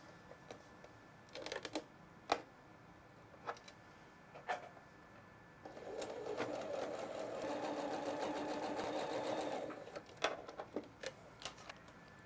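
A sewing machine stitches a seam on a flannel quilt block, a steady mechanical whir of about four seconds at moderate volume, framed by scattered soft clicks and handling taps in a quiet room.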